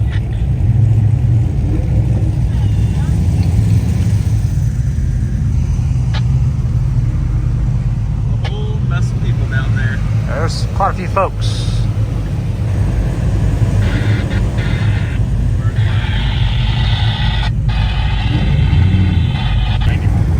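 A Dodge Dart idles at the Hot Rod Power Tour, a steady low engine rumble running beneath crowd chatter and someone speaking briefly, with scattered clicks and bursts of other activity nearby.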